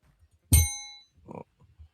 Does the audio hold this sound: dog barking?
no